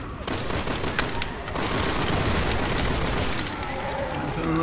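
Heavy, continuous gunfire in the video game Resident Evil 6, dense overlapping shots blending into a loud sustained barrage for the whole stretch.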